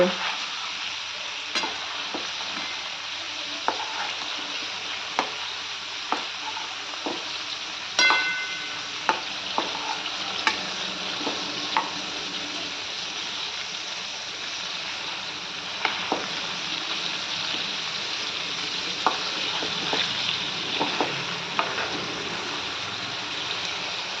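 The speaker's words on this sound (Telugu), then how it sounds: "ఊరికే వేగిపోతాయండి తెల్ల వంకాయలు" White stuffed brinjals fry in hot oil in a pan, a continuous even sizzle with scattered sharp pops and occasional stirring clinks, close and moderately loud throughout.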